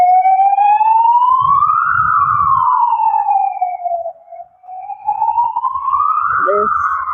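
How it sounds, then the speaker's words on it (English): A loud wailing ambulance siren rises and falls in long sweeps, passing close by a cemetery with steady intensity, a short dip midway, and a brief low rumble. "And we have an ambulance going past."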